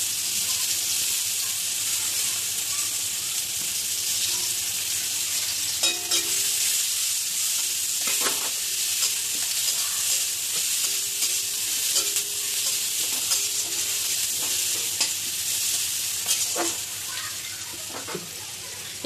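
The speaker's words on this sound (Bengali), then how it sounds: "এবার আমি কুচিয়ে রাখা পেঁয়াজ দিয়ে দেব।" Chopped onions go into a pan of lightly fried potatoes for an eggplant and egg curry, giving a steady, loud sizzle with occasional stirring scrapes throughout.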